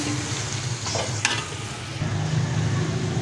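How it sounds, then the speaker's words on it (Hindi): Yogurt sizzles and fries in a pan for chicken nargisi pulao while being stirred, giving a close, continuous crackling sizzle with soft scraping strokes. "अब इसको हम थोड़ा सा चला लेंगे हल्का, 2-3 मिनट के लिए इसको हम भून लेंगे।"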